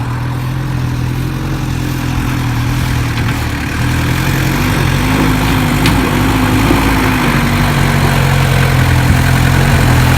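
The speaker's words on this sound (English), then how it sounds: "First gear, low range, just crawl up it as slow as you can." A 4WD vehicle crawls slowly uphill in first gear low range on a homemade off-road track, its engine a loud, steady low drone with a slight rise in pitch midway and no talk.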